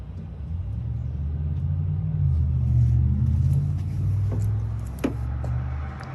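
A Chevy 6.0 V8 with headers rumbles through Flowmaster Super 10 mufflers, a steady deep idle close by with a slight swell midway and a brief sharp click near the end.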